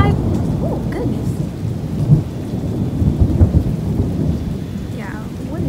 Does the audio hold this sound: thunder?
yes